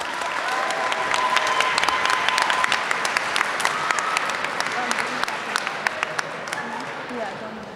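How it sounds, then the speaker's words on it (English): A school assembly audience applauds a student team at a mental health initiatives event, dense clapping with sharp individual claps standing out. It holds strong for several seconds before thinning, and a few voices sound faintly under it. "So give it a round of applause to Spark."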